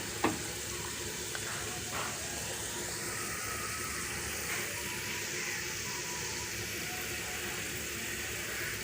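Tamarind fries in ration palm oil with a steady, close sizzle that runs the whole time, broken by a few small pops and crackles.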